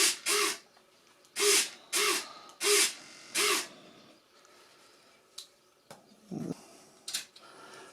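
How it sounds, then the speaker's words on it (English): An RC plane wing servo, driven by a servo tester, moves the flap with five loud, short whirring bursts in a steady rhythm, then a few fainter, scattered buzzes and clicks, close and with no speech. "I'll put my servo tester in, see how the flap responds."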